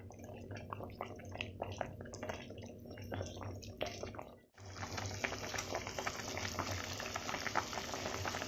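Potatoes simmer in a pot of water while cooking a mud crab curry, a soft, faint bubbling and rolling boil with small liquid pops, briefly dipping before continuing steadily.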